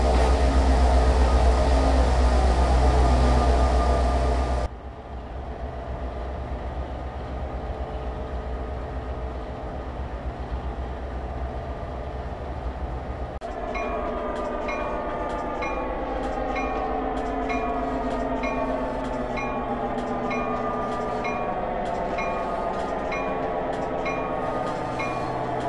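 Hopper railcars being unloaded at Kokomo Power Plant on the Norfolk Southern line: a loud steady rumble at first, dropping abruptly to a low hum, then joined by a rhythmic mechanical clatter and ringing tones that carry on to the end, with no voices.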